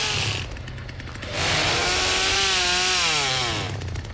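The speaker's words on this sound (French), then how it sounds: "je peux lui mettre un petit coup de tronçonneuse" Chainsaw in The Texas Chain Saw Massacre video game, a loud close engine that rises into a sustained whining rev with wavering pitch, then drops back to a rattling idle.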